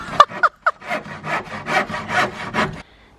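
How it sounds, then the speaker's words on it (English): A few sharp knocks, then a hand saw cutting wood in a steady run of rhythmic strokes, close up, before falling quiet. "Back to sawing."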